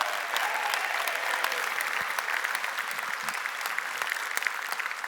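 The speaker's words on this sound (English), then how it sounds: "Give Bill Hart like the giant round of applause that this man deserves" A keynote audience applauds, a dense, steady wash of many hands clapping that stays loud and even throughout.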